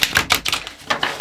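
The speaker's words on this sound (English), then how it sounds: "All right, I'm going to get another shuffle here." Tarot cards being shuffled in quick, crisp riffling bursts, close and fairly loud, with several rapid flutters across about a second and no talking.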